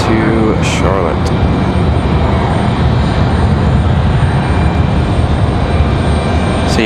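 An American Airlines jet takes off for Charlotte from Raleigh-Durham airport, a loud, steady broadband engine roar filling the scene, with a few faint voices briefly audible early on.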